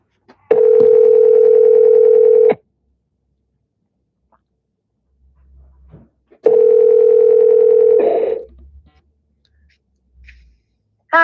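Phone call ringback tone: two long steady rings about two seconds each, separated by silence, loud and close, the second ring cut off as the call connects with a brief click.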